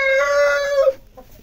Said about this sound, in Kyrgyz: Ошондой, бул баябай короз экен.